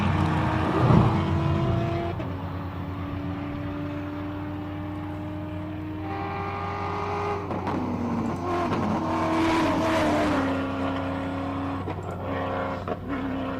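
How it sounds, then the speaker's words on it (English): Monster rally raid race vehicles at a hillclimb roar continuously, their engines rising and falling in pitch as they accelerate and shift, loud and close with several gear changes and surges. "rally raid vehicles."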